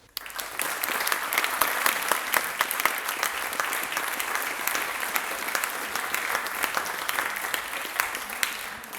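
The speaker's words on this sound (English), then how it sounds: "please give a welcoming round of applause for Jo Marchant." A lecture audience breaks into welcoming applause for a speaker, a sudden onset swelling into a long, loud, steady wash of many clapping hands with sharp individual claps standing out.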